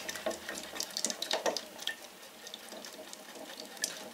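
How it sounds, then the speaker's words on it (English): A stick swirls through a can of shellac primer as tint is mixed in, giving close, quiet liquid sloshing and light scraping in uneven strokes. "Give it a really good stir up."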